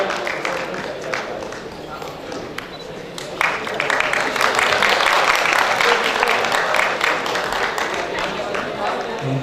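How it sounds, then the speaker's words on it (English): Audience applause at the SKANS Annual Dinner 2012 awards, a dense wash of many hands clapping that grows louder after the first few seconds and holds steady, with a voice faintly under it. "Please give them a huge round of applause"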